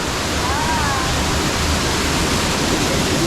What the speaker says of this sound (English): I can hear like big waterfalls or something.